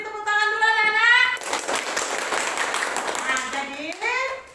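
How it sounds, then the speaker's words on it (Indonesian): Children in a fourth-grade classroom clap together for a few seconds, a burst of hand claps between stretches of a teacher's voice speaking before and after. "Kita beri tepuk tangan dulu anak-anak"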